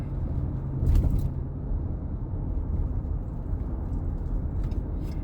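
A 2020 Ford Ranger XL SuperCab with the FX4 package driving on the road, giving a steady low engine and tyre rumble heard from inside the cab, with a brief louder swell near the start and no talking.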